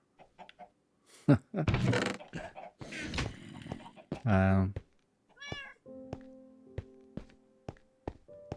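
Cat meowing in the video game Minecraft, short meows among clucking chicken-like game sounds and clicks, with a person talking over parts of it.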